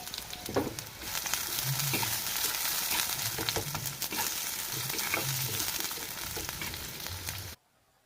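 Finely chopped onion fries in oil until crisp, a steady close sizzle with crackling pops and intermittent stirring scrapes, holding level before cutting off abruptly near the end.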